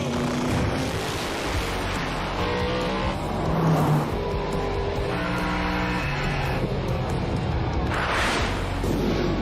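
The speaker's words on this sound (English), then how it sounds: "Whoa, what a drag race." Drag race cars, a Mustang among them, roar with sustained, loud engine noise, racing hard down the strip with a swell in intensity partway through and steady power throughout.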